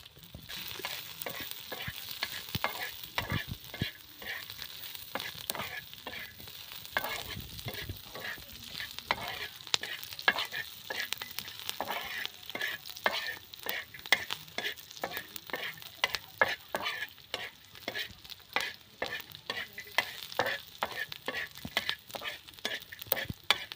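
Coriander seeds and peanuts roast dry in a pan, a continuous close rattling and scraping as they are stirred, dense quick ticks over a faint sizzle with no speech.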